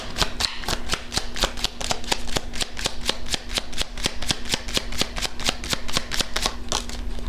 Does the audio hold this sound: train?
no